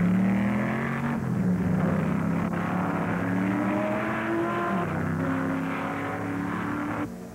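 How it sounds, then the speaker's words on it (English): A 4-liter Ferrari race car engine at the 1964 Sebring 12 Hours drones loudly and steadily, its pitch shifting as it works through the gears, with no voices over it. "the Hill Bonnier 4-liter Ferrari has taken the lead from Surtees late in the afternoon."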